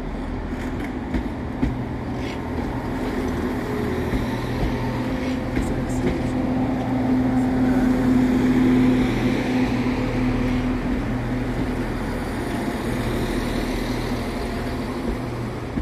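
Northern Class 170 diesel multiple unit arriving at Hull Paragon station, a steady low rumble with a sustained tonal whine and brief squeal, fairly loud throughout, with voices faintly present in the station.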